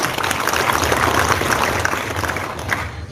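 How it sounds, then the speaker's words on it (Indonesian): Crowd applause for a police vaccinator team at an award ceremony in Samosir, a dense steady patter of many hands clapping at moderate loudness, tapering slightly near the end. "Tepuk tangan dulu kepada tim vaksinator"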